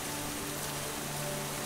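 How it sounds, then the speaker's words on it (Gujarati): Heavy downpour in an animated children's story, a steady dense hiss of falling rain with a faint low hum beneath, continuous and even throughout with no voices. "દિવસોમાં રાજા શ્રેણિક પોતાના મહેલના ઝરૂખામાં રાણી ચિલ્લણાની સામે બેઠા છે અને ધોધમાર પડતા વરસાદને જોવાની મજા લે છે."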